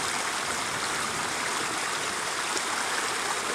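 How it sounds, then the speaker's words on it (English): Heavy rainwater overflowing and rushing in a steady, dense roar of flowing water, loud and continuous with no talk. "That's a lot of fucking water."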